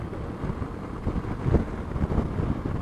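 Strong wind gusting outdoors, buffeting the microphone with a low, continuous rumbling roar that swells and eases without pause, no voices present.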